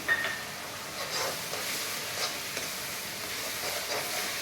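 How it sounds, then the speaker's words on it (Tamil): Tomato puree sautéing in a pan for poori and achar paneer, a soft steady hiss of sizzling with faint scrapes of stirring, close and fairly quiet throughout, no voices. "இதில் நம்ம 2 தக்காளி பியூரி பண்ணி வச்சுருக்கோம், அதை போட்டு நல்லா வதக்கிக்கலாம்"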